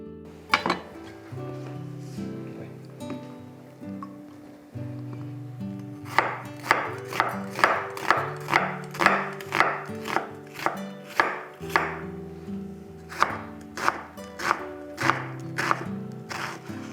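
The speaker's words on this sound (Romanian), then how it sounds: "Mai întâi curățăm ceapa și ardeiul și le tocăm mărunt." A knife finely chops onion and bell pepper on a board, quiet at first, then a steady run of crisp, evenly spaced chops, close by over a faint low background.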